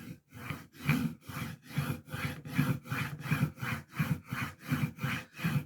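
Chisel rubbed back and forth on the coarse side of a sharpening stone with fluid, a regular rasping rhythm of about a dozen close, even strokes with no talk.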